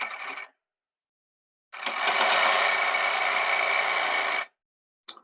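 A sewing machine stitches fabric for gents' underwear in a short burst, then pauses before a steady run of about three seconds and a brief final start, all loud and close.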